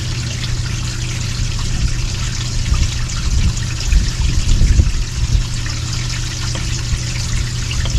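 Gray water draining from an RV tank through the sewer pipe, a steady close gurgling rush with a brief surge in the middle, with no voices.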